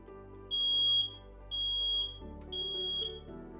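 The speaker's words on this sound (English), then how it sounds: "Have working smoke alarms." A household smoke alarm beeps three times in a steady rhythm, each loud, shrill electronic tone lasting about half a second with a short gap between, close by over a low background hum.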